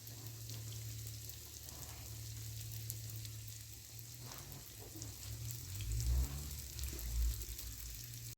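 Pirozhki dough fries in hot oil with a steady, soft sizzle and crackle, faint and even throughout, with a low hum underneath.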